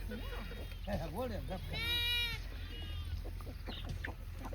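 Sheep bleat several times in a row at a rural shepherd's camp where a horse is also kept, fairly close, over a steady background hum with voices around them.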